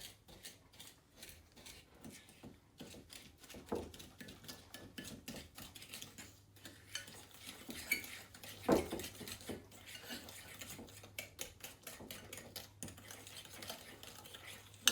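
A butter-tart mixture is stirred in a bowl, producing quiet, rapid, rhythmic scraping and clinking of a utensil against the bowl that continues the whole time, close but faint, with no talk.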